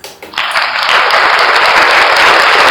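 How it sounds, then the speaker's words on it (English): Loud burst of applause from a crowd, many hands clapping in a dense, steady wash that swells quickly and holds strong to the end. "we need to give a big clap to the finance minister"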